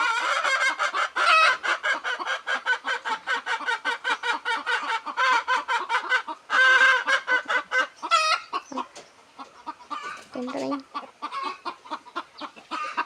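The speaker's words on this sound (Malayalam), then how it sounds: "ഞങ്ങളുടെ ചാത്തൻ മുട്ടയിടും." Chicken clucking up close in rapid, rhythmic bursts of sharp calls, nearly continuous at first, then sparser and more irregular toward the end.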